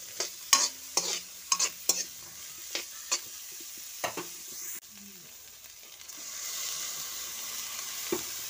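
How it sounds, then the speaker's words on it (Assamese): Carrots, peas and French beans being stirred and fried with onion in ghee: a soft steady sizzle under sharp, irregular clacks of a spoon against the pan, the scraping easing off as the hiss swells and then settles. "এইখিনি ধুনীয়াকৈ ভাজি ল'ম"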